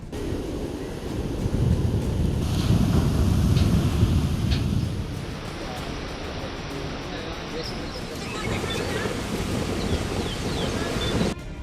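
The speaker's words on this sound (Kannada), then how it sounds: "ಬಿಟ್ಟು ಬಿಡದೆ ಸುರಿಯುತ್ತಿರುವ ಧೋಧೋ ಮಳೆ, ವರುಣನ ಅಬ್ಬರಕ್ಕೆ ತುಂಬಿ ಹರಿಯುತ್ತಿರೋ ಹೊಳೆ" Heavy monsoon rain pours down beside a rushing, overflowing stream in Belagavi district, Karnataka, a loud continuous roar of water that eases slightly midway before swelling again.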